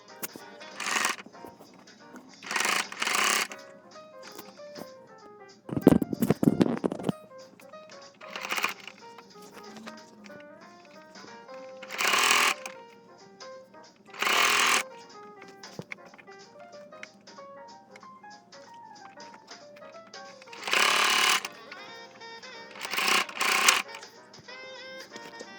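A sewing machine stitches a border onto a shirt being converted into a dress, running in short bursts of about a second, repeated several times over steady background music.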